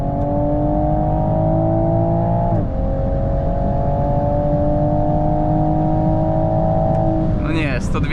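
A 2022 US-spec Toyota GR Supra 3.0 with 382 metric horsepower pulls hard at full throttle on the road, its close engine note climbing steadily through two quick gear shifts.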